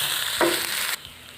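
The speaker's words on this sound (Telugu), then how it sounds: "ఇప్పుడు ఇదంతా బాగా కలిసిపోయేలాగా కలబెట్టుకోవాలి." A spoon stirs garam masala and pepper powder into mashed potato filling for aloo paratha, giving a short scraping, sizzly-sounding mix over about a second before it stops abruptly.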